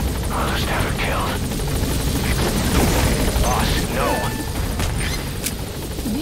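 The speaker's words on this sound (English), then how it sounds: "I'll send the extraction chopper." An extraction helicopter in Metal Gear Solid V arrives with a loud, continuous rotor roar, while chirps and other game effects sound over it.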